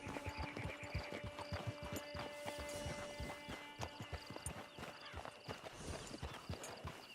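Steady clip-clop of horse hooves trotting at a regular rhythm in the video game Red Dead Redemption 2 Online, close and clear, over a low hum with a faint whinny.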